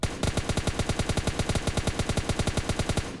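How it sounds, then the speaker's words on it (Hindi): Rapid automatic M4 rifle fire in a video game, a loud close burst of evenly spaced shots running without pause for about three seconds. "एक शॉट और मारा, ये लो अभी एक आध शॉट इस पर एक और मारूंगा"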